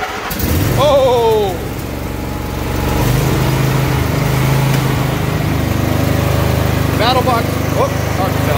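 A tractor engine, its battery recharged by a solar charger, turns over and catches, then settles into a loud, steady running rumble close by. A voice exclaims briefly near the start.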